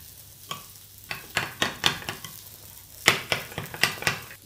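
A sauce of yogurt, runny honey, salt and pepper being stirred in a bowl, giving repeated soft scraping and clinking strokes in irregular bursts, close and fairly quiet.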